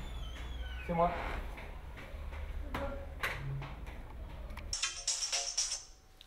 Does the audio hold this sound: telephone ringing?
yes